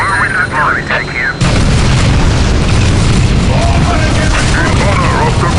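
Whirlwind artillery bombardment in the Warhammer 40K Dawn of War Soulstorm game, a loud, dense, continuous rumble of booming explosions that swells in suddenly after a voice speaks and keeps roaring steadily.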